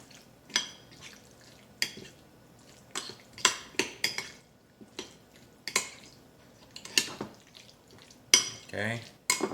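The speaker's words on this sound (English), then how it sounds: "we're going to go ahead and stir it all around" A tuna and celery mixture being stirred in a bowl, giving intermittent scraping and clattering of a utensil against the dish in short bursts, close and fairly clear.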